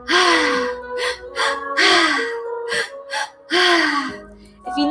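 Deep, audible breaths during a breathwork meditation session, with several long drawn inhales and exhales rising and falling in a steady rhythm, close and fairly loud.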